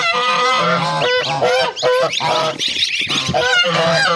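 Goslings and chicks chirp and peep in a busy, overlapping chorus, close and steady, with many small high calls layered over one another throughout.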